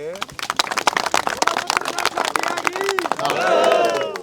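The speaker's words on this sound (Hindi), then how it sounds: "पत्रकारों के लिए ताली बजा दो यार" An audience at a gathering claps for journalists, many hands striking in quick, uneven bursts over crowd murmur and a prominent voice talking throughout, with the clapping thinning as the speech continues.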